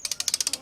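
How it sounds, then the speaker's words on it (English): A torque wrench clicks nine times in quick, even succession while tightening wheel bolts, each click sharp, close and alone. "it's tightening now, and you wait for the click"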